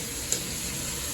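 Bean sprouts (toge) sauté in a pan, giving a steady, close hiss of frying with one small tick near the start, heard alone.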